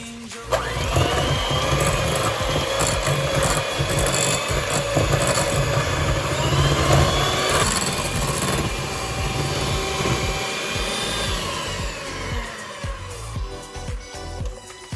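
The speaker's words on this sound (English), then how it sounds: "today I'm using my electric hand whisk" An electric hand whisk whips butter for cupcakes, a loud continuous motor whine with a steady pitch and some rattling against the bowl, running for most of the stretch before it winds down and stops near the end, no speech.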